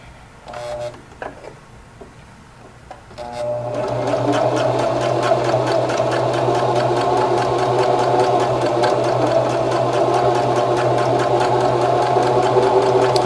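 A sewing machine stitches a lace wig with a fast, steady mechanical whir that runs loud and unbroken after a few brief start-up clicks.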